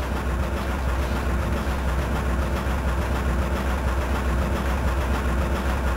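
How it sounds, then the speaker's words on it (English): A train engine runs continuously in the Silent Hill video game, a loud, steady low rumble and drone holding evenly throughout with no speech over it. "Choo-choo train?"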